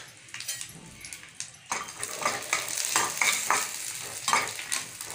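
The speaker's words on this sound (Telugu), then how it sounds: "ఇందులోనే ద్రాక్ష, బాదం పప్పు వేసుకొని వేయించుకుందాం." Raisins and almonds sizzle in hot ghee in a pan, a steady close frying hiss with scraping stir strokes that intensify after a brief quiet start.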